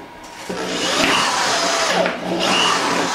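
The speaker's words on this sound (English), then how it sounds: "We're going to start a pilot hole for the scroll saw." A power drill whines loudly in two bursts, its motor rising and grinding as it bores a pilot hole into a hard plastic cooler, close up.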